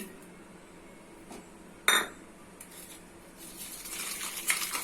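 Sugar being mixed into eggs in a bowl for semolina biscuits, with a sharp utensil clink against the bowl followed by soft scraping and a faint, gradually building swish of stirring.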